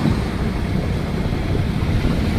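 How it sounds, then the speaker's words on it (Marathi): Steady rain pouring down on the road to Tuljapur, with water pooling on the road, a dense continuous hiss and patter with low rumble, loud and unbroken throughout. "असा पाऊस पडतोय, मस्त पाऊस पडलाय."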